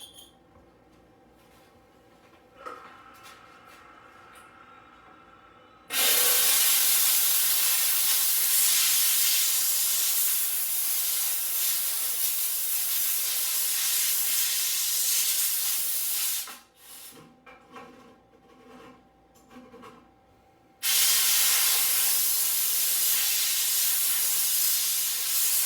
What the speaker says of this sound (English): I'm going to steam clean this and get rid of any fingerprints I might have left behind